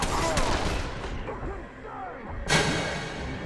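Enemy gunfire in the zombie survival game Dead Island Definitive Edition, a dense burst of shots crackling over constant game noise, with a sharper loud report near the end and a voice talking over part of it.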